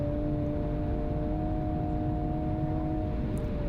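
Steady, sustained engine drone of a car lapping a race track at speed, continuous and fairly close, with a constant pitch and no talk over it.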